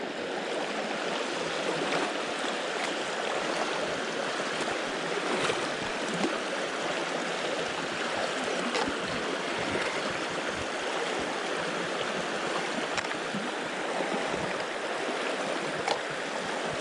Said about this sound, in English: Across the river we go.